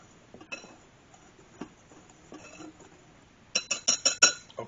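Salt and baking powder mixed in a bowl, starting with quiet scattered clinks and ending in a quick run of bright, close metallic taps against the bowl.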